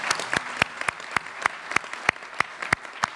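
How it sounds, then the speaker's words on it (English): Sparse applause at a groundbreaking ceremony: about a dozen distinct, fairly close hand claps ring out at a steady rhythm over a quiet room, with no talking in between. "give her a round of applause"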